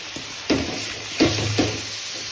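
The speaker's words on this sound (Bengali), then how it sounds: "আমি এখন একটু নাড়া দিই" Spoon scraping and stirring through onions frying with salt and spices in a pan, three distinct stirring strokes over a steady background sizzle, close and fairly loud, no talking.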